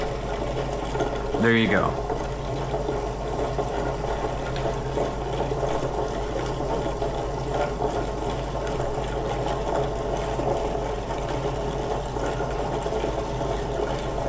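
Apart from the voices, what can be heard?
Lortone rock tumbler running, cleaning metal detecting coins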